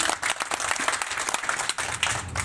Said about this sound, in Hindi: एक बार अपने लिए और अपने मंत्री साहब के लिए ताली बजा लीजिए।